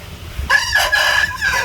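A breeder male parrot-beak bird lets out a loud, drawn-out call with a ringing tone lasting just over a second, close by and alone after a brief quiet lead-in.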